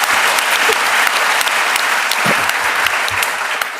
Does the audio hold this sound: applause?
yes